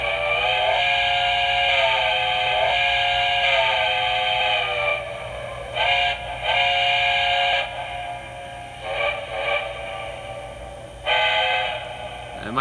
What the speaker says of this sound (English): let's go ahead and listen to our whistle